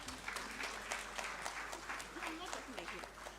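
Applause from an audience at a forum on women in government and media, a moderate patter of clapping with a voice speaking over it.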